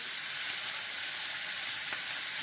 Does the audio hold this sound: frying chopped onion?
yes